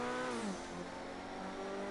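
Car engine in the GTA video game revving hard through an oversteering corner, a loud steady drone with rising and falling harmonic pitch, accompanied by faint tire noise.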